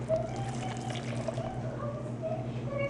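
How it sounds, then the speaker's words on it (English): Water pours into a pasta sauce mixture for a vegan baked penne Florentine, a soft steady trickle close by over a constant low kitchen hum, with no talking. "A little bit more water."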